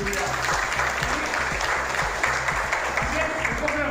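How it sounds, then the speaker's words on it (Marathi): An audience at a live public event applauds steadily for a few seconds, a dense close wash of clapping hands at an even level with a speaker's voice through it. "आपण सगळे टाळ्या वाजून त्याचा एक"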